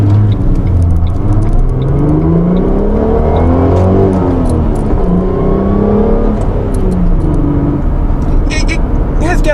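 A car accelerates hard up to about 60 mph on a road with light traffic, its engine note rising and revving in sweeping climbs, steady and loud throughout, with people talking over it.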